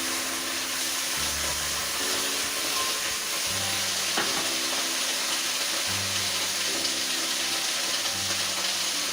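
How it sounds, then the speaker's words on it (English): Napa cabbage and water hit hot oil in a pan in a student hall kitchen, giving a loud, continuous sizzle and hiss with bursts of steam, plus intermittent low rumbling bubbling beneath, and no speech. "it is supposed to sound like this because water met oil"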